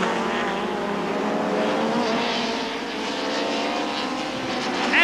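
BTCC touring race cars from 1990 roar past together in a dense, continuous engine drone at racing speed, steady and fairly loud with slight swells as they pass.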